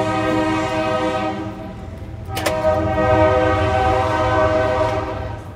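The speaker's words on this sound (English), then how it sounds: "Now you're going to hear our neighbor, our friendly neighbor, the train." A train passes close to a live/work space converted from an old auto repair shop, rumbling with a sustained, loud horn blast, its steady droning tones filling the whole stretch.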